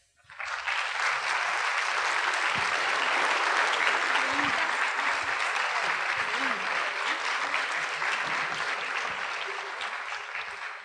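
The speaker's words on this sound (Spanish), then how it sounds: "un gran aplauso les damos" Audience at an education conference on diversity and inclusion bursts into warm, sustained applause lasting about ten seconds, dense and even before tapering slightly at the end.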